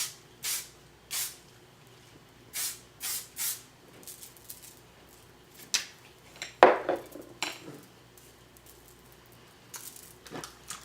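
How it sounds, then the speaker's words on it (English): Hairspray comes out of an aerosol can onto a braided hairstyle in short, separate hissing bursts, about a dozen of them at an uneven pace, close and fairly clear. A brief clatter is heard partway through. "And then just take your hairspray"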